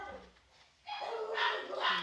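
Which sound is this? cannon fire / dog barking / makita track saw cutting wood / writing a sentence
dog barking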